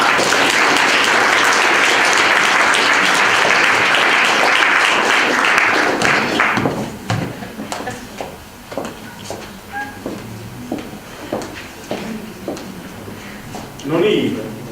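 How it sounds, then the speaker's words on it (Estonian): Dense applause from an award ceremony crowd at a student company competition rolls loudly for several seconds, then breaks into scattered individual claps as a voice begins speaking over the thinning sound. "Nüüd võite plaksutada."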